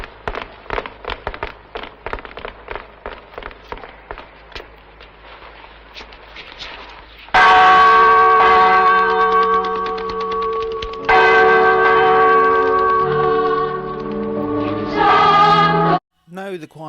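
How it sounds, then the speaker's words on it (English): Church bell ringing in a film scene about a bell: after irregular sharp knocks and clatter, loud resonant bell strokes ring out in sustained bursts with lingering hum, then cut off abruptly. "Come on, Jimbo and the Vicar, get that bell ringing"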